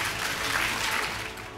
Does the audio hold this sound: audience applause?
yes